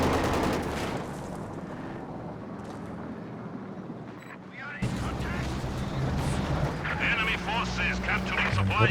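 Light artillery barrage from Company of Heroes 2, shells landing as dense, rumbling bursts and crackling impacts in a busy battle mix, with voices talking over it throughout.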